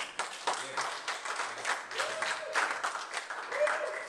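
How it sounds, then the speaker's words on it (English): A crowd applauds steadily, with continuous clapping and some cheering voices mixed in throughout. "Applaud yourself."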